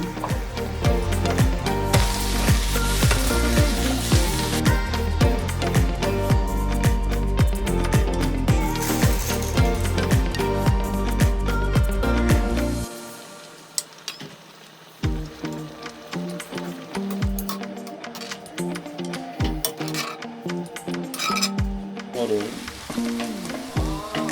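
Shrimp gambas with garlic and pasta sizzle loudly as they are stir-fried in a pan, with rhythmic scraping stirs. The frying then quiets, leaving sparse clinks and softer sizzling.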